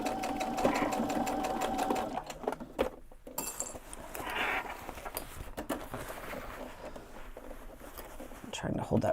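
A domestic sewing machine runs a long basting stitch through backpack fabric, a fast even mechanical whir with brief pauses and small clinks, heard close up under a person talking.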